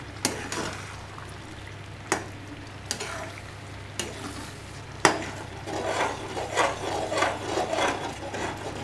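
Srirangam akkaravadisal, a thick sweet rice pudding, stirred in a pot: a few sharp scrapes and knocks of the spoon against the pot, then a continuous close, rubbing, squelching stir through the thick mixture.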